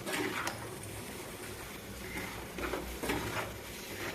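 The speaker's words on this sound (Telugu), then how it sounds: "ఒక నిమిషం ఇలాగా ఆయిల్లో వేపుకుంటే ఉప్పు కారం అన్నీ బాగా పడతాయండి" Chicken pickle masala with salt and chilli frying in oil in a pan, a dense, close sizzle with a few scraping stirs breaking through the continuous hiss.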